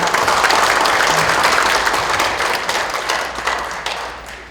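Loud, dense applause from a crowd at a book-launch talk concert, a steady roar of many hands clapping that slowly tapers off toward the end.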